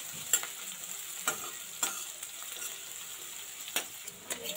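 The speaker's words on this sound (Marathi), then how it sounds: "ट्रान्सपरंट होईपर्यंत आपल्याला हा कांदा परतून घ्यायचा आहे." Onion being sautéed until transparent for green moong aamti, a quiet sizzle punctuated by periodic spatula scrapes and taps against the pan, no voices.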